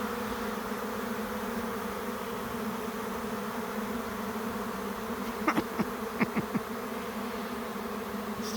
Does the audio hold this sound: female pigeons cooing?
no